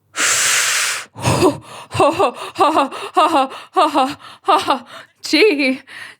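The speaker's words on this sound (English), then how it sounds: "I'm gasping over here" A woman gasps repeatedly, a long breathy intake followed by a rhythmic series of short voiced gasps and moans, close to the microphone and loud.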